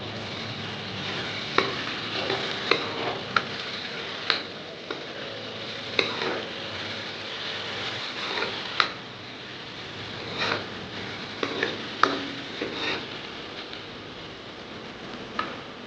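Onions softening with salt in a pan give a low steady sizzle, punctuated by sharp ladle taps and scraping stirs at irregular intervals, close and alone with no voices.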